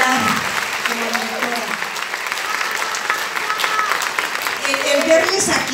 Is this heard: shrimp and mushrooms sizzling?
no